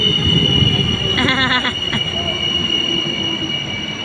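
A train bound for Alessandria squeals loudly on its wheels with a steady metallic whine, a brief burst of rhythmic clatter partway through and a constant rumble beneath, heard up close.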